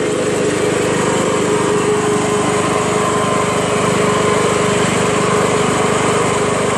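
A Honda Harmony HRM215 SX self-propelled lawn mower with a cracked deck runs steadily and loud at a fairly low engine speed, a constant close drone with no talk over it.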